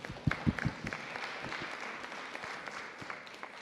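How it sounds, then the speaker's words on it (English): Audience applause for the school board at a public schools board meeting, a few sharp claps at first and then thin, scattered clapping that tapers off. "Let's give our board a round of applause."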